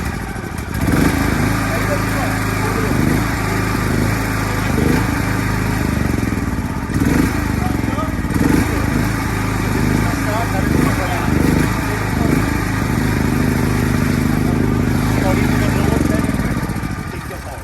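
A petrol generator in the 3 to 10 kVA range running steadily, its loud, continuous engine drone and mechanical clatter going on throughout while someone talks over it.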